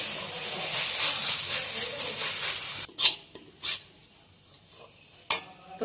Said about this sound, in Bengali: তো নারকেল ছাইটা একদম লাল লাল করে ভেজে নেবো